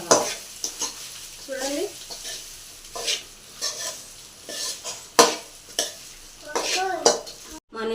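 A spoon scrapes and stirs leftover cooked rice mixed with lemon juice in a frying pan, with a light sizzle and intermittent clinks against the metal, while a voice speaks briefly between the strokes.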